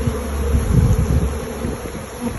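Honey bees at a bee farm, fed on a sugar solution, buzz in a steady, dense drone close to the microphone, with no talking.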